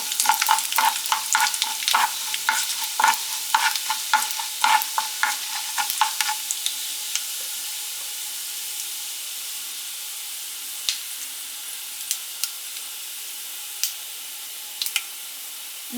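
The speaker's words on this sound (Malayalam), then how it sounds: "നന്നായിട്ടൊന്ന് ഫ്രൈ ചെയ്യാം." Urad dal and chana dal frying in a pan for lemon rice, with a close sizzle and repeated scraping stirs for several seconds, then fading to a soft hiss with occasional light taps, no talking.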